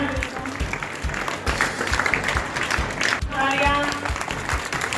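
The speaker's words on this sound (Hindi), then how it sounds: "एक बार तालियां।" An audience at a school function in an English-medium government school in Kathumar applauds, a steady dense clapping that rises and falls over several seconds, with voices faintly present underneath.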